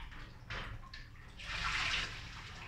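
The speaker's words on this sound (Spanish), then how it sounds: "dejen quitarle todo el agua" Water and vinegar drain off soaked cuaresmeño chiles in a kitchen, a soft splashing pour that swells near the end, fairly quiet and close, with no talking.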